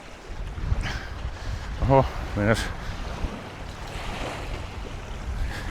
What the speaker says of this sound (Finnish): Täällä tuulee nimittäin jonkun verran